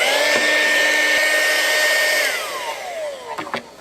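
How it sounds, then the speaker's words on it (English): A small electric pump, powered by an Aukey PowerZeus 500 portable power station, whines at a steady high pitch, then spins down with a falling tone as it shuts off, followed by a few faint clicks. "I can go ahead and turn on my pump as well."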